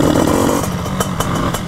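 Bidalot 96 motorcycle engine running, a close buzzing two-stroke-like drone with a few sharp bursts near the end, no talking.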